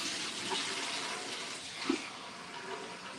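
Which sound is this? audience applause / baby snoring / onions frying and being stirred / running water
running water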